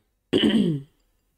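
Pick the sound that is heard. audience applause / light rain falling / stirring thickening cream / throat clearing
throat clearing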